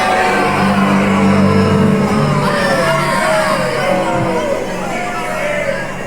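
A loud crowd cheering, yelling and whooping in a dense continuous roar from start to finish, in a Gotham City street scene.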